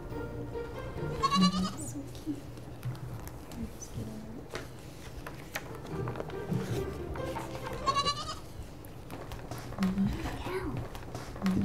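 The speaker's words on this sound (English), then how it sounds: "A goat?" A farm goat bleating at a distance, two drawn-out wavering calls several seconds apart, heard over a low background hum with occasional soft noises.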